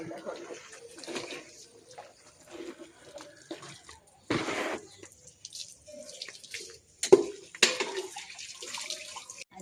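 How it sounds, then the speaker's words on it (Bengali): A wok and pots are scrubbed in running water at a household sink, with intermittent splashing, scraping and short clatters of metal, and someone talking quietly over it. "কড়াই ঠড়াই মাজবো"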